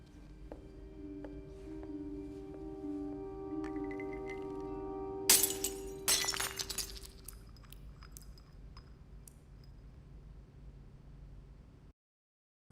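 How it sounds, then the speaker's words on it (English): A glass shatters as it is squeezed in a hand in the video game Marvel's Spider-Man, a sudden sharp crunch and tinkling breakup of shards over a sustained musical score, followed by a few small clinks before the sound cuts out. "it's a bad idea to squeeze a glass so hard that it literally cuts your hand open until you bleed"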